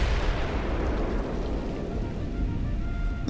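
Cannon bombardment in the Western game Call of Juarez: Bound in Blood during a defensive battle, a dense, loud, continuous rumble of artillery blasts and debris with no clear gaps, filling the whole short stretch.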